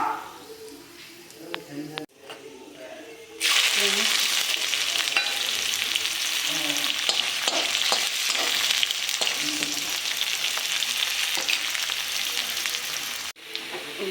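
Bay leaf, cloves, cardamom and five-spice seeds hitting hot oil for matar paneer, a quieter sizzle for the first few seconds then a sudden loud, dense crackling burst that stays strong and close before cutting off near the end.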